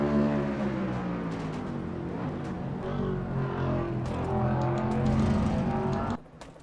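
On board the number 9 Coors Ford race car at the Glen, the engine drones loud and close, its pitch rising and falling through gear changes and revs before cutting off abruptly.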